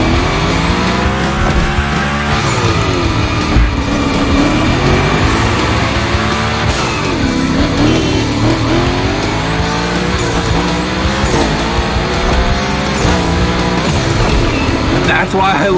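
A car slides and drifts around a gymkhana course in The Crew Motorfest, its engine revving and rising in sweeping swells with squealing tires, loud and close, while a voice talks over the action.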